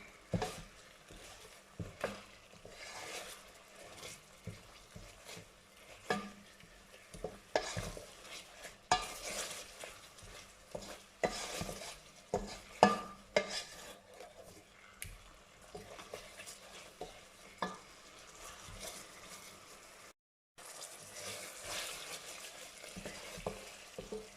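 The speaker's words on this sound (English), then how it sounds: "Then you can mix all well together." Green curry paste with green chili being stirred in a pan for Thai green curry, with steady irregular scraping and soft sizzling strokes throughout, one brief pause near the end.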